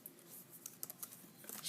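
Typing on a computer keyboard while entering account sign-up details: a quiet run of irregular, light key clicks with uneven spacing, close and alone with no voices.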